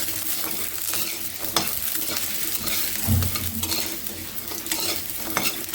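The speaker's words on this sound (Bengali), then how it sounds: "লাল লাল করে ভেজে নেব বড়িটা" Bori lentil dumplings fry in a pan while a utensil stirs them, giving a continuous close sizzle with steady scraping strokes and occasional louder knocks.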